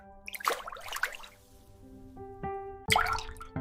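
Water drops fall into water in a few separate bursts of quick plops and splashes, close and clear, with a ringing tonal note between them and quiet in the gaps.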